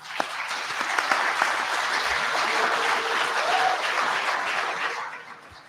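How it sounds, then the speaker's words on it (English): A conference crowd gives a round of applause for streamers, with dense, sustained clapping from a mid-distance audience that swells briefly and then fades out near the end. "do a big round of applause for all of these streamers"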